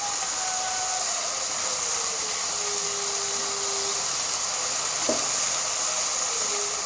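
Tomatoes fry in a hot pan for matar dal, a yellow split pea dal, giving a steady, even sizzling hiss that runs without a break and carries no talk.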